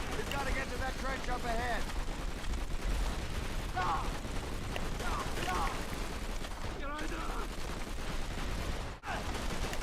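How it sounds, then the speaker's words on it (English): A machine gun turret in Call of Duty: World at War keeps up dense, continuous battle fire with rumbling booms, heard at a low level under game voices and shouting. "there's like a light machine gun or a turret up here"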